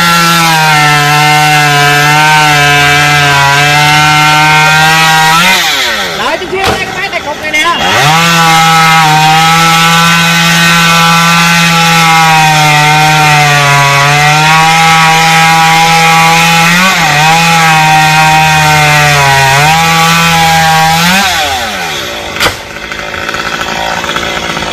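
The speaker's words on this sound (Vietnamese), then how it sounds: "Phải đổi cái máy cưa lên để cưa xong cái phần cây xà cừ đó luôn." A chainsaw cuts through an Indian mahogany branch stretching over power lines. The engine drones loud and close, holding steady at high revs and dipping briefly as the load changes.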